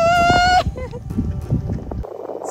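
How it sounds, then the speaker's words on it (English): Sheep bleating beside a rainy roadside in Tasmania: one loud, close, harmonic bleat opens, then a jumble of rustling, footsteps and muffled movement, ending in a steady low hum. "We stopped by the side of the road to look at the sheep."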